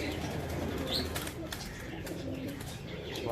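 Pigeons flap their wings at close range, a brief burst of fluttering over a busy background of other bird sounds and low murmur, without clear speech.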